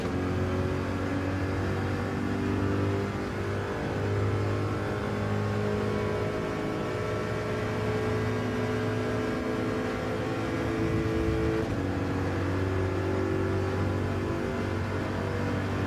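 A Corvette race car in Gran Turismo 7 drones steadily with a sustained engine note. The revs shift slightly but stay steady and loud throughout, with no voices.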